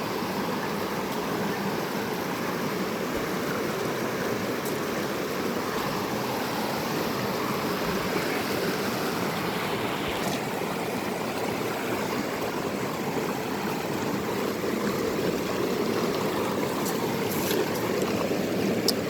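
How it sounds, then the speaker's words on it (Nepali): A large, dangerous river rushes past in a continuous broadband roar of churning water, steady and unbroken throughout, with no voices. "यो बाटो हिँड्नको लागि ठुलै खोला छ एकदम डेन्जर छ"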